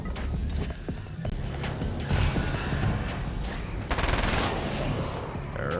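Submachine gun fire in a video game crackles in rapid, dense bursts, loud and close, mixed with mechanical clattering.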